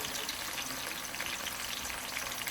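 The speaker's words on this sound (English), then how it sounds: "all that popping, that's from the thyme" Thyme pops and crackles while frying in hot oil, a dense continuous sizzle with scattered small pops, steady and close with no talk.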